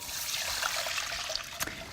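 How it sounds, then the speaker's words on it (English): Milk being poured over long grain rice in a heavy bottom saucepan gives a steady close trickling, splashing pour with a brief louder splash near the end. "I'm gonna cover that with some milk"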